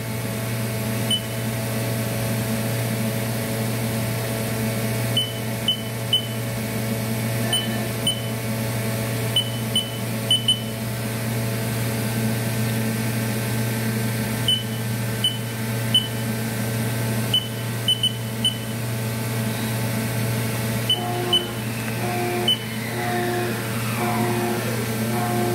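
A 2014 Haas VF-6SS CNC vertical mill with a Haas HRT 210 rotary runs its spindle with a steady hum and strong tonal whine, while faint periodic beeps and clicks recur throughout and a tone sweeps near the end.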